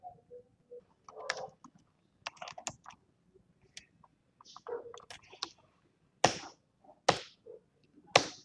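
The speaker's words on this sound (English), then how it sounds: "here you have to type quarterly" Scattered keystrokes on a computer keyboard typing a search word, a few quiet taps followed by several sharper, louder key presses near the end, with no voices.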